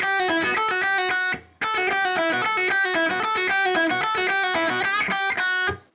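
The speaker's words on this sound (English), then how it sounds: "So here's the first guitar part." An electric guitar with overdrive plays the first part of a harmony solo, picking a fast run of bright lead notes. The phrase halts briefly and then continues to a close, heard alone without any talk.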